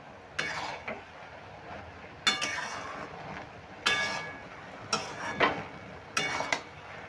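A spatula scrapes and flips taro stems with mourola fish in a pan. Several short bursts of metallic scraping and clanking ring out at irregular intervals, separated by quieter sizzling gaps.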